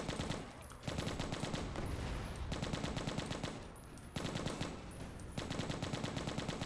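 Rapid machine gun and shotgun bursts fire in the video game Left to Survive, loud dense rattling volleys with short pauses between strings of shots.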